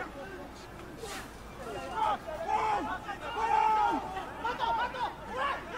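A stadium crowd at a Japan versus Samoa rugby match fills the background with a steady roar of chatter and rising voices, while someone talks over it throughout.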